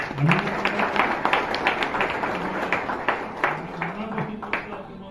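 Applause from an audience at a municipal council meeting in Phaltan, India, with many fast, dense claps that keep going for several seconds, close by and fairly loud, under murmured voices.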